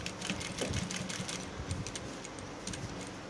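A sewing machine stitches piping around a garment neckline in a steady, continuous run of rapid ticking needle strokes, moderately close and fairly quiet throughout.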